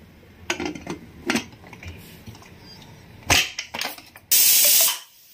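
A pressure cooker holding lentils and rice for pongal builds to a loud, steady burst of hissing steam near the end, after a few light metallic clinks and knocks in a kitchen.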